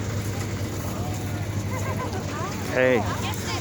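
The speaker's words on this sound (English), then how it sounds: "Tractor." A farm tractor runs for a hayride at a spooky ranch attraction, giving a steady low engine hum while people talk nearby, with a brief louder burst near the end.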